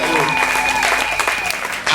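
A church congregation applauds loudly and steadily throughout, a dense wash of clapping with a sustained musical tone held underneath.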